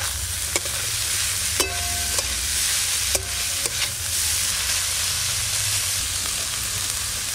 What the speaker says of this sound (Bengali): শাকটা কিন্তু খুব ঝরঝরে করে ভাজা হচ্ছে